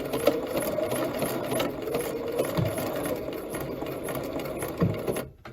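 A sewing machine stitching a buttonhole runs steadily close by, a fast rhythmic mechanical whir with light rattling, slowing and stopping abruptly at the end.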